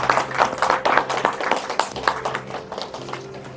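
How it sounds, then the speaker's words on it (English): An audience applauds at a book launch with a dense, steady patter of many hands for nearly four seconds, individual claps standing out close by over a low electrical hum. "Let's have a huge round of applause for Dr. Krishna Saksena."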